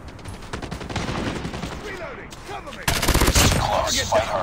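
Gunfire in Call of Duty Mobile: rapid automatic bursts crackle throughout, then a louder, denser volley breaks in partway through, with game voices talking over the shooting.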